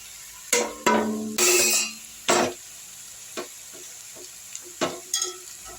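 Cabbage, spring onion and coriander being stir-fried for fried rice: a handful of sharp, separate scrapes and clacks of a spatula against the pan, a few longer rustling tosses, over a faint sizzle, close by and with no talking.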